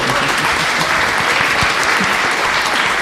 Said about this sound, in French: il faudra double applaudissement pour encourager Evan